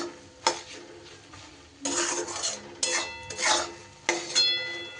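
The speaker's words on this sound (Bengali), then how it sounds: "একটু নাড়িয়ে চাড়িয়ে নিয়ে" A utensil stirs green chilli and vegetables in a cooking pan for a vegetarian dish, giving several scraping, clinking bursts against the metal with quiet pauses between them.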